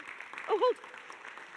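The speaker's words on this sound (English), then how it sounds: "Round of applause, I think." Broad crackly clapping from a crowd runs under a brief spoken exclamation, steady and moderately loud throughout.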